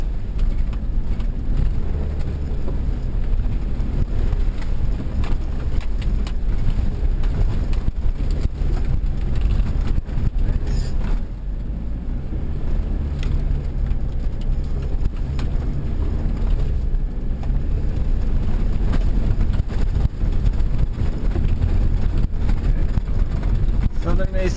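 A car climbs a slippery, muddy Uludağ trail with ESP switched off, its engine a steady low rumble under heavy wind buffeting and scattered knocks, with a person talking over it.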